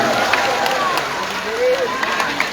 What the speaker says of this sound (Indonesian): Tepuk tangan buat semua yang telah ikut merekam